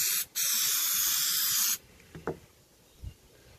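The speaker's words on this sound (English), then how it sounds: "I'm going to spray some onto a couple of these parts and show you what happens." CRC gasket stripper sprayed from an aerosol can onto powder-coated parts: two loud, steady hissing bursts, a short one and then a longer one, close by. Faint clicks and light handling knocks follow in the quiet.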